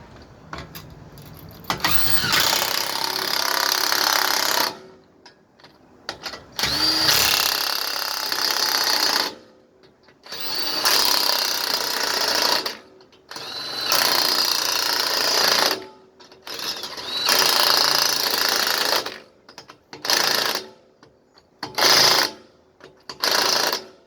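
Wheel lug nuts on a car being tightened in a star pattern, heard as a series of loud, rattling mechanical bursts of several seconds each, separated by short pauses that get quicker toward the end, with no talking.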